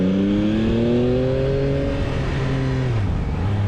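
A 2022 Yamaha MT-09 triple-cylinder naked bike in riding mode D4 at full throttle, with a loud, sustained engine roar whose pitch climbs steadily and then drops as it shifts, close and continuous with no talk.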